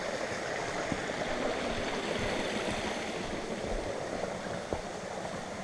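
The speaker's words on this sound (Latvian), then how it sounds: "Ļoti interesants skats ir, kad vienkārši no zemes nāk ārā ūdens un aiztek uz leju." Underground spring water pours out of the ground and runs downhill on a hiking route from Liepa to Cēsis in Latvia, a steady, close rushing wash with no voices.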